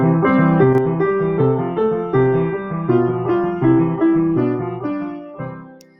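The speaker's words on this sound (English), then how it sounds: "So if I add a harmony to that melody, it sounds like this." A piano plays a melody with a harmony line moving alongside it, notes struck in a steady rhythm, clear and close with no talking.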